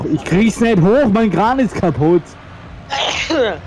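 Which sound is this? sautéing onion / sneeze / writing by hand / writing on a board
sneeze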